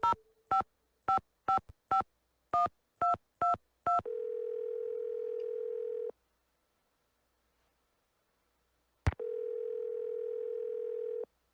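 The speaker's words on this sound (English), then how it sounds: "Maybe I'll try on the hotel phone." Hotel telephone in a Nancy Drew mystery game: eight short dialing tones in quick succession, then a steady dial tone that stops, a click, and the dial tone returning, clear and close with no voices.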